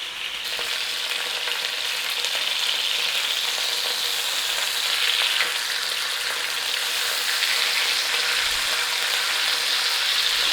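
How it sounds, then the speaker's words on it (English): Chicken sears in a hot pan, giving a dense, steady sizzle that crackles evenly from start to finish with no talking. "We're going to flip it, sear up the other side."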